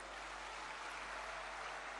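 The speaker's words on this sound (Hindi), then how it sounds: "आप भी तालियां बजा के अभिनंदन करें" Applause from a rally crowd in Sagar at a rail line doubling inauguration, a steady dense wash of clapping filling the whole stretch, moderately distant and even.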